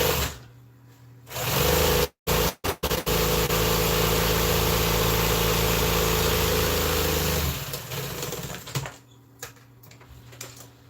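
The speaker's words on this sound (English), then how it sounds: "I keep this sewing machine oiled pretty good." A sewing machine stitching a custom Polaris vehicle seat cover runs in a steady, fast mechanical whir with a few brief stops and restarts, then winds down into quiet.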